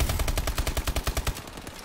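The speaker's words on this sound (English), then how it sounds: "Ooh, shots." Gunfire in a competitive team video game match, a single fast automatic burst of about fifteen sharp shots that stops after little more than a second, heard alone.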